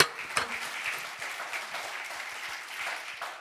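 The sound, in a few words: audience applause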